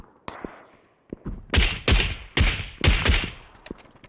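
Gunfire in a first-person shooter: a few sharp isolated shots, then four loud, close bursts of automatic fire in quick succession, with fainter shots trailing off and no talking.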